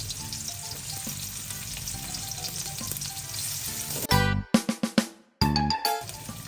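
Onion and ginger sautéing in a pan give a steady sizzle with stirring for about four seconds, then a sharp, choppy burst of clatter and pulsing sound takes over.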